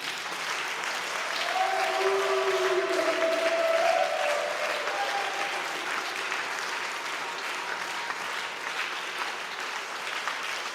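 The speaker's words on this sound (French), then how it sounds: "Bien-aimé, est-ce que tu peux encore acclamer ton Dieu?" Church congregation at a Sunday worship service applauding and cheering, a sustained wash of clapping with raised voices and a sung or shouted phrase rising above it, steady and full throughout.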